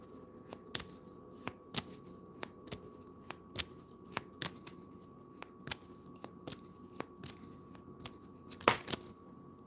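Tarot cards being shuffled and drawn close up, a series of crisp soft snaps and riffles at a fairly regular pace against a quiet background, with one louder card slap near the end.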